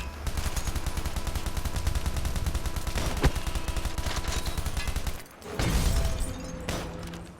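Rapid automatic gunfire in a multiplayer shooter game, a dense unbroken stream of shots for about five seconds, a short gap, then another burst of heavier firing and impacts, loud and close.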